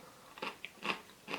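Crunchy bites into a breaded McDonald's Homestyle chicken tender, three crisp crackling bursts close to the mic with short pauses between, no talking.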